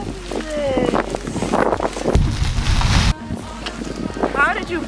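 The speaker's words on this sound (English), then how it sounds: "It's so windy." Strong outdoor wind buffets the microphone in loud, steady gusts, with a heavy rumbling burst in the middle, while people talk over it.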